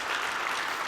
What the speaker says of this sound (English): Can we get a round of applause for Kyle for running across the back and forth?